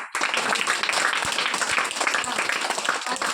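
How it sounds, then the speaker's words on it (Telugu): A group of children claps for a boy named Siddhu, giving dense, continuous hand-clapping at fairly close range that fills the room, with no talking over it. "సిద్ధు క్లాప్స్."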